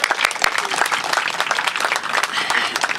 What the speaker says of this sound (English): Can we please give a round of applause to Beth White and her Houston Parks Board team?